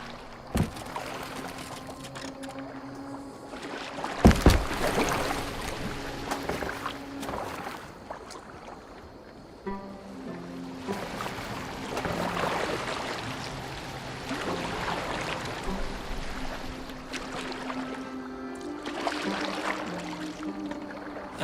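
A boat moves across the water in Assassin's Creed Valhalla, with a steady wash and lapping of water, splashes and oar-like strokes, and low tones from the game underneath, no voices.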